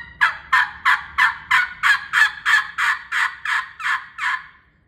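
A reed mouthpiece on a tube, the kind used for turkey-style game calls, blows about a dozen short raspy yelps in an even rhythm, close and unaccompanied, tapering softer at the end.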